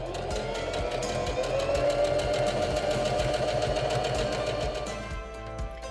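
A SINGER Denim sewing machine runs continuously while sewing a seam on chambray, a loud, even rapid stitching drone with a fast regular needle pulse, close and alone, slowing slightly near the end.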